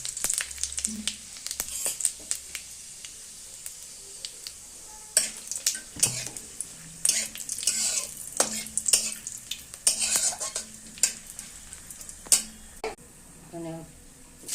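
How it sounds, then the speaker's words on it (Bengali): Whole spices (bay leaf, cloves, cardamom and cumin seeds) sizzle in hot oil in a pan, heard as a soft crackle under frequent sharp scrapes and clinks of a spoon against the pan, irregular and close. "তেজপাতা দিয়ে দিলাম, দুটো লং এলাচ দিয়ে দিলাম, আর এখানে দিয়ে দিলাম গোটা জিরা।"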